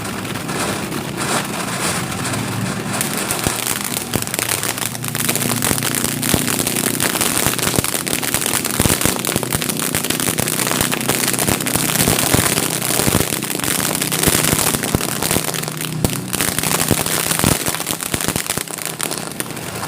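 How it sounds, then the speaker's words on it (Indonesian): Jumbo cobra firecrackers going off outdoors at night during Ramadan, a dense, continuous run of loud crackling bangs and pops lasting throughout, with no voices. "Setelah ini langsung kita nyalakan mercon cobra yang jumbo."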